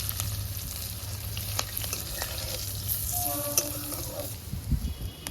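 Bay leaves, panch phoron and cut spices hit hot oil in a home kitchen pan for a banana-skin chhechki, giving a steady close hiss and crackle with no speech over it.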